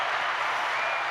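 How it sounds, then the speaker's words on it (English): A round of applause during a podcast episode, a soft, even wash of many hands clapping at a steady level without pauses or speech. "And of course, you get a round of applause."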